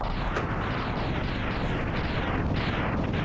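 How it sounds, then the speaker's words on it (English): A sustained, roaring explosion from the Mega Man X video game, a dense rumbling blast that fills the whole stretch loudly with no talk over it. "Mega Man is drawn into the explosion, but is immune to its effects."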